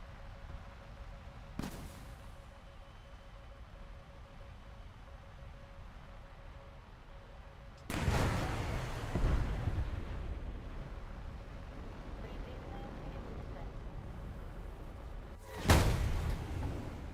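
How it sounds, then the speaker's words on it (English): A nuclear bomb detonates in the combat game War Thunder, a sudden heavy blast that swells into a long, loud rolling rumble, with another sharp explosive burst hitting near the end. "That was a pretty good nuke."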